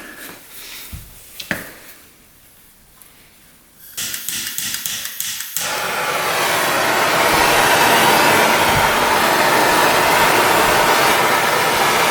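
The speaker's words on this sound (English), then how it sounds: "you probably want to use a torch something like this" A torch heats the case of a dirt bike engine during a crankshaft repair. A few scattered clicks and taps come first, then a steady, loud roaring hiss starts partway through and holds to the end.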